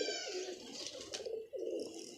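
A pigeon coos in a few soft, rolling calls close by, with no talk over them.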